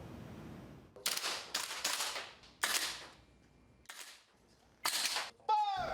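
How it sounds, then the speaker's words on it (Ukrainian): Several sharp bursts of rapid airsoft gun shots firing plastic pellets crack out in separate volleys with short pauses between them, loud and close, at an airsoft club in Taiwan. "тайванські студенти вчаться стріляти пластиковими кулями"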